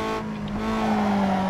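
Honda Civic engine drones at a steady pitch in Need For Speed Underground 2, with a brief tire skid partway through, loud and continuous for the short stretch.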